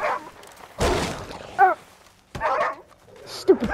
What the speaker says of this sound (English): Stupid dog!